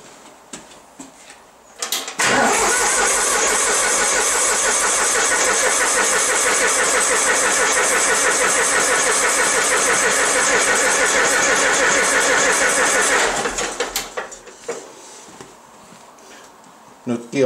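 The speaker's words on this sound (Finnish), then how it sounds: "niin mä nyt vähän aikaa tarttaan tätä, että tänne menisi edes jonkun verran öljyä ennen kuin päästäisiin sitä käyntiin" A Valmet 565 tractor engine cranks over steadily with the fuel shutoff engaged, a loud continuous churning that runs for about twelve seconds without catching, then cuts off into quiet.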